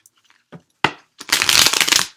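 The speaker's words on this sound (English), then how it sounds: "one last shuffle for Gemini" Tarot cards being shuffled up close: a few soft flicks and taps, then a loud, rapid riffling burst that lasts about a second.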